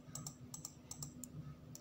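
Faint, close computer keys click in quick irregular taps, about a dozen sharp presses in under two seconds, with no talking.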